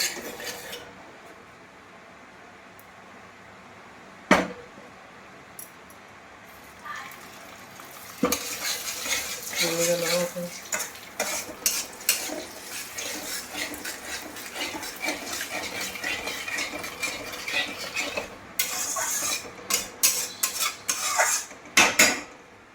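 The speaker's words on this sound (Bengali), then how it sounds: "পুরো ঘি ঘি করে ভাজতে হবে" Semolina is fried in ghee for halwa in a pan, with a spoon scraping and stirring in repeated strokes over a soft, steady sizzle. One sharp clink of cookware sounds early, and there is no talking.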